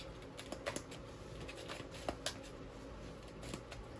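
Faint, soft riffle and tapping of tarot cards being shuffled by hand, with light irregular clicks and flicks over a quiet room background.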